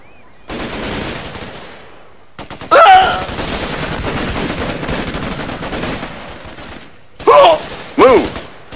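Bursts of rapid enemy gunfire in the Raven Squad war video game crackle loudly in several volleys. Shouted voices break in between the shots.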